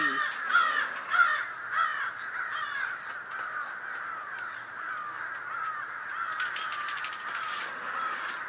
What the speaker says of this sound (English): The crows are here en masse, commonly referred to as a murder of crows. And they're feeling noisy.